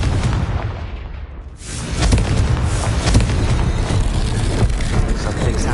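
Confringo blasting spell in Hogwarts Legacy: a sharp burst after a brief lull, then a loud rumbling roar of explosive noise that holds steady to the end.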